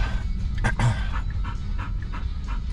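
An excited dog pants rapidly and steadily inside a car, the quick breaths close and loud with a brief whimpering note partway through, no talking over it.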